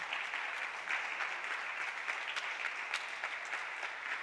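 A church congregation claps in offering to the Lord, a dense, even wash of hands with a few sharper claps standing out, sustained and moderately loud throughout.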